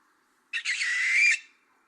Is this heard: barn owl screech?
yes